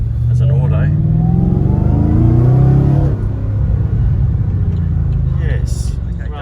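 A supercharged Holden Commodore SS V Redline automatic revs hard and climbs in pitch as it launches forward, loud and close, then settles into a steady lower drone with a voice talking over it.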